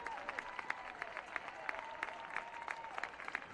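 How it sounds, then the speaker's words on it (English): Scattered crowd applause at Fenway Park greets a tumbling catch by the left fielder in a baseball game, faint and distant with sparse individual claps. "A nice round of applause for Stripling"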